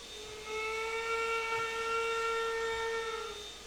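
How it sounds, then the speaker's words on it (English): In the video game Trainz 2022, a 4-6-0 steam locomotive's hooter-style whistle sounds one long, steady hooting blast over a soft hiss, moderately loud and sustained for about three seconds. "Hooter style whistle, that's an old whistle sound."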